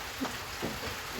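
Rain falls steadily as a storm moves into Laos, a dense even hiss with a couple of slightly louder patters.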